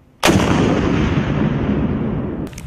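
A single thunderous blast from an M3 Carl Gustaf 84mm recoilless rifle firing, an abrupt loud boom that rolls and decays over a couple of seconds outdoors, followed by a faint short noise at the end.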